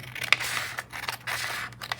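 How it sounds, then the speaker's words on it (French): Scissors snip through paper rectangles, several quick close cuts with crisp slicing strokes in an uneven rhythm, no voices. "je vais couper également 3 rectangles de haut"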